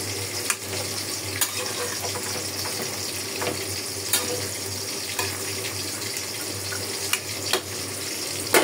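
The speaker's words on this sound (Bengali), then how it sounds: "এদিকে মাছও ভাজা হয়ে যাচ্ছে।" Fish rubbed with turmeric and salt fries in oil in a kadai, giving a steady close sizzle with occasional sharp pops and clinks throughout.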